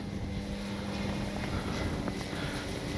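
A large Hangar 9 Valiant 20cc gas-powered RC plane in flight, its engine droning steadily at moderate distance, a continuous buzzing hum with slight wavering in pitch and no speech.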